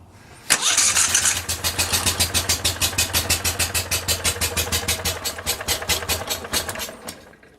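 A V-twin engine on a drift trike catches after priming and settles into a loud, close, pulsing idle with a steady lumpy beat that runs for several seconds before cutting off.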